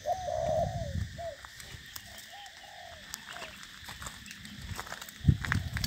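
Spotted doves cooing outdoors, a series of soft, clear coos repeating through the clip, with a louder rustle or footstep near the end.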